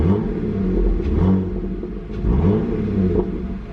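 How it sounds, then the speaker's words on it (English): A car engine with a freshly cleaned air intake filter revs in repeated short bursts, each throttle tap bringing a rising roar and audible intake whoosh before dropping back to idle. "You can actually hear the air intake sucking in more air."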